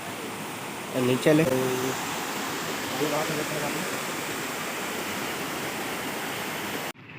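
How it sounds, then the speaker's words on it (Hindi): The Damau Dhara waterfall roars as a loud, steady rush of falling water close by, with brief voices talking over it early on. "एतिया ने देखी तुमन ला दमऊ धारा के झरना"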